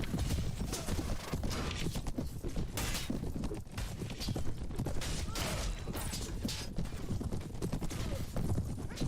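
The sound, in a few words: horse archers riding, hooves in Mount and Blade: Warband video game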